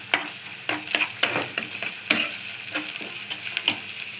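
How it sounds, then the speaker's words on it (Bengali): Ginger-garlic and cumin paste frying in a pan, a steady close sizzle broken by repeated sharp scrapes and clinks of a spoon stirring against the metal. "এই যে আদা রসুন বাটা দিয়ে দিলাম, জিরা বাটা দিয়ে দিলাম"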